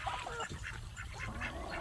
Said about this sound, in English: They're ducks in here.